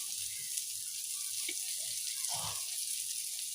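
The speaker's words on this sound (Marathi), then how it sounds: "तर अजूनही थोडंसं आपण ते बारीक गॅसवर फ्राय करून घेणार" Fish frying in a pan on a gas stove, a steady close hiss of hot oil with faint low clatters underneath.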